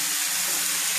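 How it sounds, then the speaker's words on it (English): Chicken fajitas frying in a pan, a steady close sizzle that holds evenly for a brief moment with no voices. "We'll get this still frying up."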